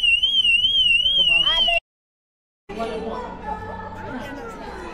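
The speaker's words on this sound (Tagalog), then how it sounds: "May alarm pa. May alarm." An alarm sounds loudly at a gathering, a steady warbling electronic tone repeating for about two seconds before abruptly cutting off, followed by busy chatter and crowd noise.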